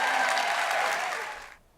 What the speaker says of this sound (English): Got big applause there,